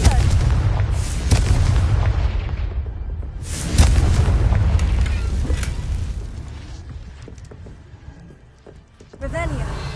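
A loud, close blast of the Confringo fire spell rumbles and booms in Hogwarts Legacy, a deep explosion that swells, decays slowly, then flares again near the end, with a voice speaking over it.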